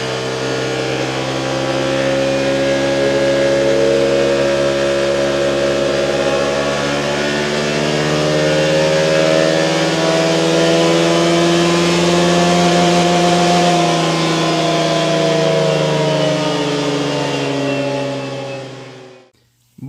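A Honda Forza 125 scooter runs on a dynamometer roller, its engine rising steadily in a loud, continuous revving whine with climbing harmonics for most of the run, then cutting off abruptly near the end.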